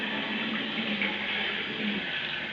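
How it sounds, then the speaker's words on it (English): Hot water runs steadily from a 1950 Crane Dial-Ese sink faucet with a worn quarter-turn valve cartridge, a constant close hiss and splash with no breaks and no talking. "if you turn on the hot water,"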